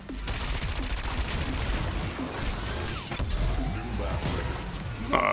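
Rapid bursts of cannon fire from a futuristic anti-gravity racer in Wipeout Omega Collection, a loud continuous barrage of repeated shots over engine roar, with a brief lull midway before firing resumes.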